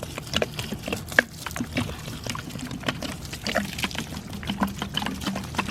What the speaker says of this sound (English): So I went and got to fill this up with some water.